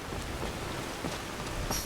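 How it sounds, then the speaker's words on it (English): Rain pouring in the Skyrim game world, an even, broadband hiss of drops striking surfaces with light patters throughout and no voices. "I am enjoying this lovely rain."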